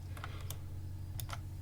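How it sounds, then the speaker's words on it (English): Soft, close clicks of keys pressed on a computer keyboard, a few scattered taps over a steady low electrical hum. "So let's press full stop on the keyboard, or the period as the Americans call it."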